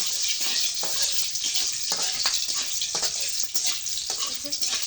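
Whole spices (bay leaf, cardamom and cinnamon) fry in hot oil for a beef dish, giving a steady crackling sizzle broken by repeated stirring scrapes and knocks.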